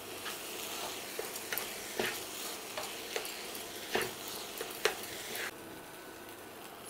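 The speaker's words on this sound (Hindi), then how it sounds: "इसमें डालेंगे आलू जो हमने ग्रेट किया है। सबको अच्छे से मिक्स कर लेंगे।" Grated potato mixture for bread pakora is stirred in a bowl, giving soft, irregular scraping and clicking strokes at close range over a low background hiss, with no talking.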